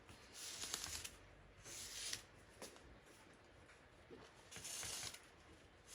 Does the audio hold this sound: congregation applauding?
no